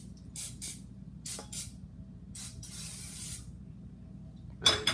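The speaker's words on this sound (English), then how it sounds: "So now it's time to spray the pan," Cooking spray hissing onto a pan in short close bursts, several quick sprays and one longer blast, separated by near silence and ending with a light clatter.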